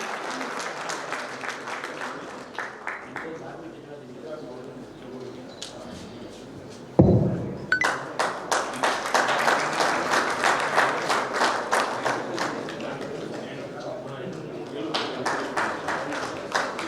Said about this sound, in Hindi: तालियां बजाकर जरूर हौसला अफजाई करें बच्चों की।